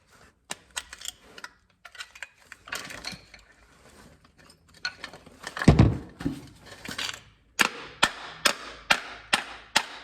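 Hammering on a Harbor Freight winch motor, sharp metallic strikes coming at irregular intervals, then a quick run of evenly spaced blows near the end, loud and close with no talking.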